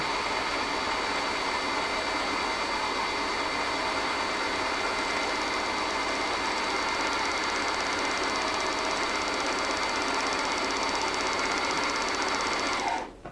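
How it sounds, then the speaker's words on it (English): A Brother Innov-is NS2750D sewing and embroidery machine winding a bobbin, giving a steady, close, high-pitched motor whir that runs without a break and then stops abruptly at the end. "on our screen here it says winding bobbin thread"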